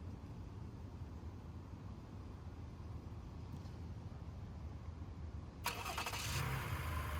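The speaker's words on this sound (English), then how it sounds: "Here's how the remote engine start works on the Highlander." A Toyota Highlander engine, started by remote start, cranks and catches near the end, following a steady low rumble of background noise; the engine then settles into a low idle.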